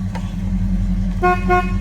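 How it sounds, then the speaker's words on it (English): A 1970 Chevrolet El Camino's car horn gives two short, close honks near the end, steady harmonic tones over a continuous low engine rumble. "Horn works."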